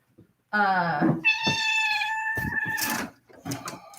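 A cat meows loudly several times after being picked up by the scruff, with long, drawn-out complaining cries close to the listener.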